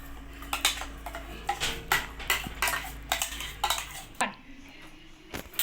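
Ground peanut chutney scraped and scooped out into a metal vessel, with a quick run of spoon clinks and scrapes against metal, close and fairly loud, ending in a few sparse taps.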